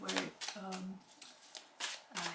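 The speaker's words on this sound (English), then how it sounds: "I'm going to shuffle your cards with intention" Tarot cards being shuffled by hand, several quick riffling bursts with short pauses between them, close and fairly quiet, with a voice speaking in between the shuffles.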